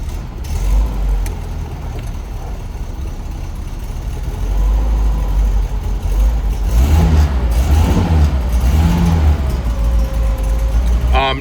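1961 Mercedes 190SL engine running at a rough idle, then revving in a few swelling bursts near the car, with a person talking over it.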